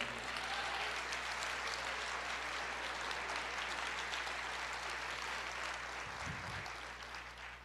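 A church congregation claps for the Lord during a Portuguese sermon, with steady, dense applause filling the room and carrying on evenly before easing off slightly near the end.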